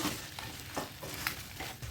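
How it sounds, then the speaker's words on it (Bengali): Giant freshwater prawns fry in a pan with salt and turmeric, giving a steady soft sizzle broken by repeated scraping and stirring as the spatula turns them, close by and alone. "গলদা চিংড়িটাকে আমি একটু উল্টে পাল্টে ভেজে নিচ্ছি ভালোভাবে"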